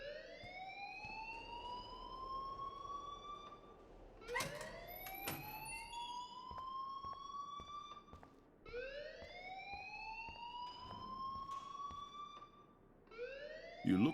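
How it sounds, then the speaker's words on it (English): An alarm rings in the Life Is Strange video game, a loud repeating electronic siren whose rising sweeps recur every few seconds without pause, with a few sharp clicks between cycles. "please turn off that alarm since that's your job"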